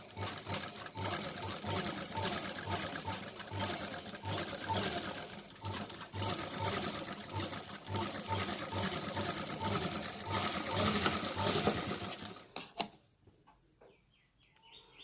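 A sewing machine stitches a kameez seam in a fast, even, continuous whir close by, running steadily for about twelve seconds before it stops and the room falls quiet.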